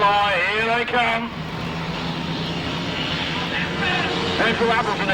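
At the start of a speedway race at the 2002 British Masters Southern qualifier, the motorcycles rev hard, with loud, rising engine whines that sweep upward and then settle into a continuous roar, and a commentator's voice runs over them.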